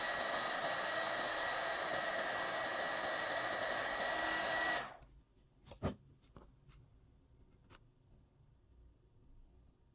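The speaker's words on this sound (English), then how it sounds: "Then I'll use my heat gun with a reflector attachment to shrink the tubing and melt the solder" A heat gun fitted with a reflector attachment shrinks heat-shrink tubing and melts solder on electrical wire joints, giving a loud, steady, close blowing roar for about five seconds before cutting off, followed by a few light clicks and taps.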